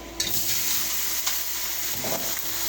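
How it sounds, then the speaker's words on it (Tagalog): Garlic sautés in a hot pan, hissing and sizzling steadily up close, with a few scraping stirs and light clinks over the sizzle. "Gisa na natin. Ayan, mainit na guys yung kawali. At ilagay na natin to."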